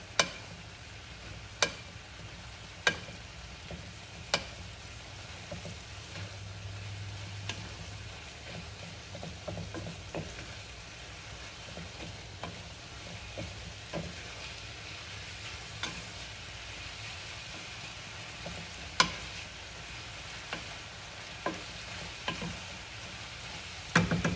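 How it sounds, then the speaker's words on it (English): Meat sauce cooks in a pan with a low, steady sizzle, punctuated by sharp intermittent clicks and scrapes of a spoon stirring against the pan, fairly quiet and close. "And then you stir."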